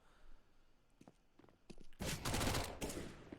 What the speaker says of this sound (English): Passionosh hoping for a timing, but instead finds himself a face full of Mac 10 bullets